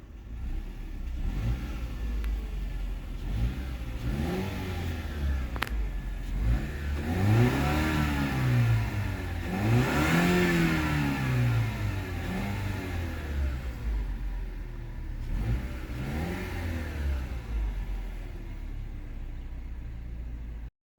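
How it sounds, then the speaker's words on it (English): A 2021 Lexus NX300 2-liter turbocharged four-cylinder engine revved several times from idle, each rev climbing and falling back, heard from close by with no talking. "And we'll give it a few revs."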